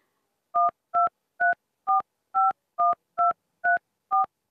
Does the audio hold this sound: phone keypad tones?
yes